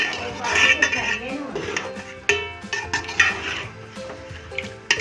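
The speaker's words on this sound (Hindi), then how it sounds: "5 मिनट हम इसको ऐसे पकाते हैं, यानी कि मसाले में इसको फ्राई होने देते हैं चिकन को।" Chicken cooks in a masala for korma, with stirring scrapes and clinks of a utensil against the pot over a soft frying sizzle, while someone talks throughout.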